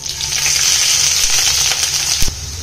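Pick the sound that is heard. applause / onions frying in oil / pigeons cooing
onions frying in oil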